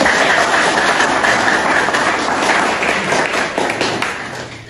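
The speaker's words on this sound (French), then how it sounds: "Et que je demande pour nous applaudir CGA très fort" Audience applause filling the room, a dense steady wash of many hands clapping at once that holds strong and thins slightly toward the end.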